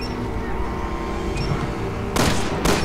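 Gunfire in Resident Evil 6 during a Leon chapter, a steady rumble of game ambience giving way near the end to two loud bursts of shots.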